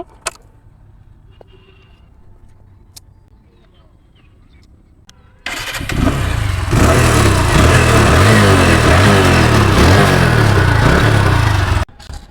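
An Apache RTR 2V 160 motorcycle with ABS, in good condition, is quiet at first, then its engine catches abruptly and runs loud and close for about six seconds with repeated throttle revs before shutting off.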